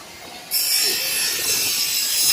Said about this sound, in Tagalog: maingay dito kasi may nagpuputol dito ng aluminum